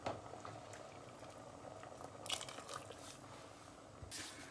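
Liquid is poured over rice in a cooking pot, a soft, steady watery patter close by with a couple of brief louder splashes, no voices.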